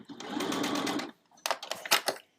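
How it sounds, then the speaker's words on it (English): A sewing machine stitching fabric for a holiday stocking, its motor whirring in a steady run of close, rhythmic needle strokes, pausing briefly before a few shorter stop-start bursts. "we're just going to start stitching"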